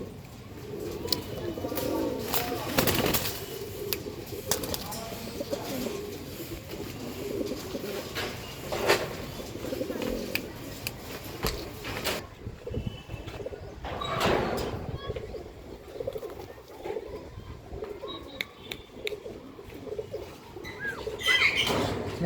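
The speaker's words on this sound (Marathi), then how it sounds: "मित्रांनो ही पायमोच कबूतर आहेत." Punjabi pigeons coo in soft repeated bursts close by, with occasional wing flutters and someone talking over them.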